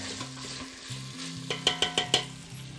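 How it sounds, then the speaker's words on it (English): Dried beans, smoked turkey, apple juice and water being stirred in a pot, a steady sizzle with a low hum, then four sharp scraping clacks of the spoon in quick succession near the end. "Just gotta continue to stir cook that."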